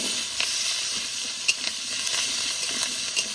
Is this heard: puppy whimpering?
no